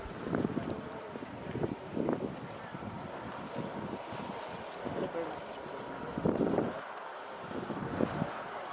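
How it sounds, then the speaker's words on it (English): Gusty wind buffets the microphone in a continuous rumbling roar outdoors at the cold summit of Pikes Peak, with faint voices mixed in. "it's cold and windy up here"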